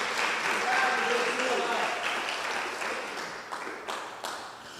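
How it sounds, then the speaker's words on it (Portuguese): A church congregation applauds the Lord during a Portuguese sermon, a thick wash of clapping that slowly fades toward the end, with a voice speaking faintly over it. "E a igreja aplauda ao Senhor."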